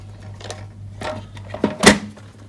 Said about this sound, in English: I'm going to bring in my Stampin' trimmer.